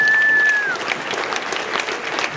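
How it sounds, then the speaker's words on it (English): Applause from a crowd at a junior bass fishing championship briefing rises and then stays fairly loud, with a brief whistle-like tone at the start. "One more round of applause for Carrol County, all the hard work they do."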